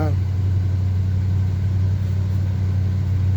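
A 1978 GMC truck idles after a cold start, a loud, steady low engine rumble that holds even throughout with no talking.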